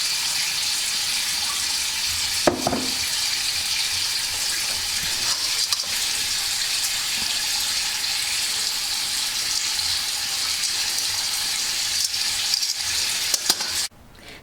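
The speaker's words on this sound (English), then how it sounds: "We're gonna add about 10 cups of water or until the whole meat is covered." Water pours steadily into a pot of pork bones for gamjatang, a spicy pork bone soup, making a continuous loud gushing rush that runs unbroken for the whole stretch before cutting off near the end.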